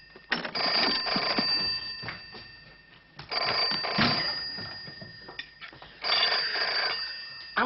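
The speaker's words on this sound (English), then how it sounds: "answer the phone." Telephone bell ringing in a 1982 comedy film, three bursts of loud bright metallic ringing separated by short pauses, close and clear with no voices.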